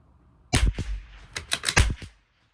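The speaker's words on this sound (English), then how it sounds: "we had a negligent discharge with the Tikka T1x" Several sharp rifle reports from a Tikka T1x on a long-range shooting outing, a cluster of quick cracks in irregular succession over about two seconds, fairly close and loud with no talking.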